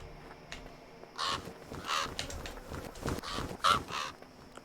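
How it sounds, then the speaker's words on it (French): Crows caw in the game VIY, several harsh calls spaced through the stretch at moderate distance over a low ambient bed, with no talking. "Les corbeaux, on va essayer de s'en foutre."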